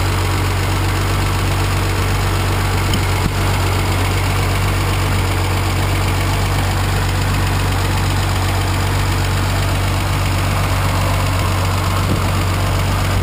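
An engine idling steadily at normal operating temperature, close and loud, with a constant low hum and a faint rhythmic knock, continuing unchanged and without voices.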